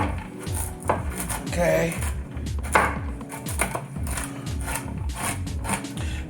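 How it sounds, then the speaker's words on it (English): A knife chops pecans roughly on a wooden board for caramel pecan cinnamon rolls, with quick repeated close taps and crunches in an uneven rhythm, plus a brief spoken word. "I'm just giving this a rough chop"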